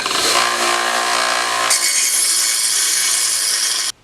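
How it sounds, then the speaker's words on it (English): A belt sander in a blacksmith's shop grinds steel, a loud, steady abrasive roar with a sharp change in tone partway through, then cutting off abruptly near the end. "This is my belt sander."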